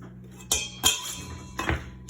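A kitchen knife scrapes pressed garlic off a metal garlic press, giving a few sharp metallic scrapes and clinks, close and loud, spaced apart.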